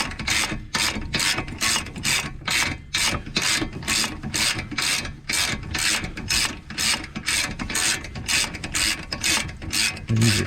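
A ratchet wrench clicks in fast, steady bursts of rapid pawl ticks, loud and close, while loosening long front brake caliper bolts on a 2014 Dodge Charger SXT.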